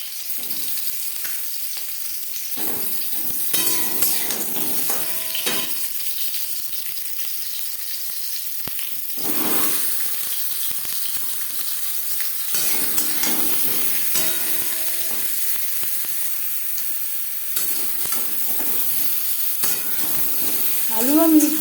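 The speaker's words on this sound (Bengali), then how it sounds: "তেল গরম হয়ে গেছে দিয়ে দেবো আলু" Potatoes frying in hot refined oil give a steady, moderate sizzle and hiss, with a few brief louder bursts of crackle. Faint clatter can be heard now and then.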